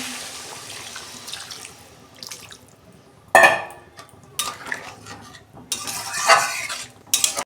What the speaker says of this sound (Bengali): জল দিচ্ছি আমি।